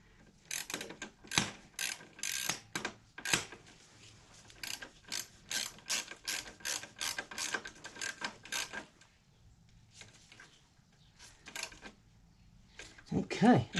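A ratchet wrench tightening a passenger peg bracket bolt on a 2008 Harley-Davidson Sportster 883C, repeated quick metallic ratcheting strokes in bursts with pauses, close by, briefly interrupted by handling noises.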